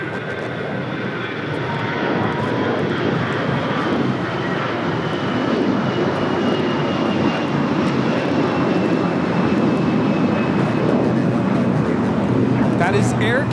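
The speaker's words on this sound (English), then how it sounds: "That is Air Canada 790 taking off to Toronto on the A321" An Air Canada Airbus A321 takes off from LAX in a loud, continuous jet engine roar that stays strong for the whole stretch, with a whine rising above the rumble.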